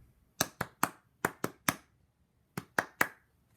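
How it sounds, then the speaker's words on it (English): Hands clap out an eighth-sixteenth rhythm in two quick groups: six crisp claps, a short pause, then three more. The claps are close and clean against near silence, with no voices. "Here is measure 2 clapped."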